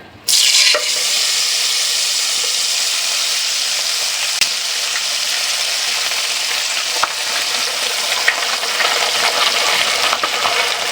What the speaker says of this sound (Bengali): এবার আমি দিয়ে দিব যে মশলাগুলো আমি ভেজে ব্লেন্ড করে নিয়েছি সেটা